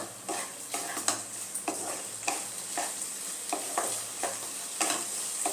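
A bottle gourd and red shrimp curry is stirred over a high flame, rhythmic scraping strokes of a spatula every half second or so over a soft sizzle, close and fairly quiet, with no speech.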